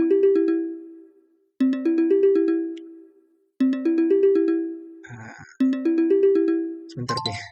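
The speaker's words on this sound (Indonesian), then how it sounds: "sorry, ada telepon." A phone ringtone of bright chiming notes plays in four repeated bursts separated by short pauses, loud and close, with brief rustling handling noise between the later rings.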